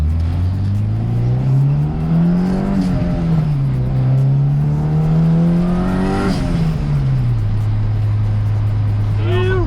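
A turbocharged Honda Integra DC2 with a B18C engine, running low boost, accelerates loudly from inside the car. The engine note rises and falls through gears, over steady road roar with a faint turbo whistle, and people talk briefly inside.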